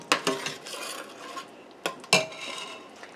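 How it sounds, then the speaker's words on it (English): A spoon stirs chili powder into a pot of chili, giving a few light metallic clinks and scrapes against the pot with soft rubbing between them, close and quiet. "Stir those spices off that spoon."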